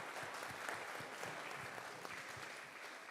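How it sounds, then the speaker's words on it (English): Faint applause at a school fall assembly for the staff, soft and distant steady clapping from a crowd filling the whole stretch. "Can we give them a round of applause?"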